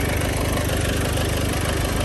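A 2011 Nissan Navara 2.5-litre diesel idles steadily up close, a loud, even low rumble with a regular pulsing clatter and no voices.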